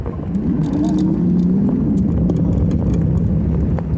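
A car passes on the road beside an e-bike rider on an evening ride, giving a steady loud engine and tyre rumble that holds throughout under wind noise, with a few light rattles.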